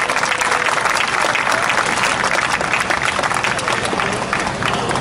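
Large outdoor crowd at a Sewol ferry disaster 500-day memorial rally applauds loudly and steadily, a dense wash of clapping that fills the whole stretch without a break.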